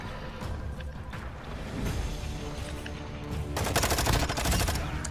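Rapid in-game gunfire from Call of Duty Warzone, bursts of automatic shots crackling through the whole stretch and building into a dense, loud barrage near the end.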